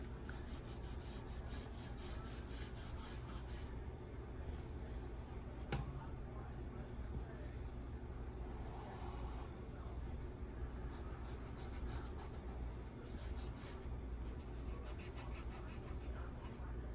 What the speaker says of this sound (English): eraser and just go now and just kind of clean up or remove all the unnecessary lines or the sketch lines that I've had here